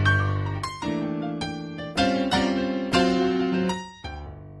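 Blues riff played up to speed on piano, a series of bright struck chords moving through changes in a steady rhythm, with no talking over it.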